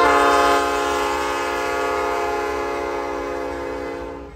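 A coal train passes close by, its multi-tone horn blaring loud and sustained for several seconds over the rumble of the cars before fading at the end.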